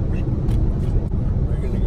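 A steady low rumble of road noise fills a car interior while it drives along on a road trip. The hum stays constant throughout with only slight fluctuations.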